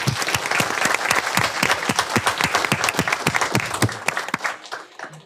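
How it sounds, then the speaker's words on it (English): A borough council meeting audience gives a round of applause for a volunteer group that cleans up the park and river walk, steady clapping from a roomful of people fading out after about five seconds. "And give them a round of applause."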